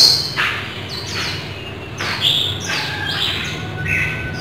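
Caged songbirds for sale chirp repeatedly with sharp, high tweets in short bursts spaced about a second apart, close and loud over a faint background hum.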